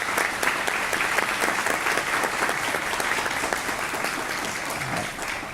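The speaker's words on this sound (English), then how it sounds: "So a round of applause for all these great students." Even, sustained applause from the audience at a school board of education meeting honoring student choir singers, a steady wash of many hands clapping without a break.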